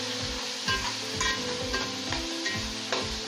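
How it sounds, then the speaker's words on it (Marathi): Tomatoes and whole chillies fry in masala for chicken biryani, a steady close sizzle broken by regular scraping stirs of the spoon in the pan. "आता टोमॅटो टाकणार आहे, त्याच्यात सोबत आपण हे अख्ख्या मिरच्या टाकणार आहोत।"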